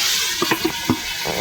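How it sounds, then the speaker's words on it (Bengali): Shrimp frying in a kadai while being pressed down, a steady sizzle broken by a few short scraping knocks and brief splashy bursts, close up and without talk. "চাপা দিয়ে দিয়ে ভাজলে তাড়াতাড়ি ভাজা হয়"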